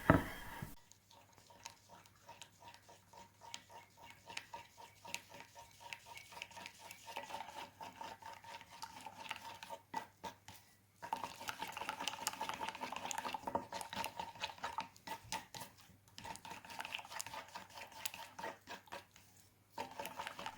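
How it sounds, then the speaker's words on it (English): A utensil works melted chocolate into ganache in a bowl, giving a long run of soft, thick, sticky swishes and scrapes in a steady rhythm. It is close and quiet, with no voices and a few brief pauses. "Just going to stir till it's combined, nice and smooth and glossy."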